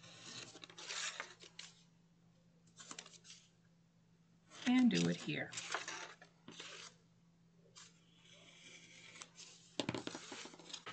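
Scissors snip at an angle through the corners of an old Christmas box's cardboard in several short, close cuts. A voice talks between the cuts.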